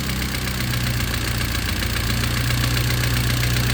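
An Alfa Romeo stepnose engine idles close by, loud and steady, with a light tappety, rattly ticking running throughout and no voices.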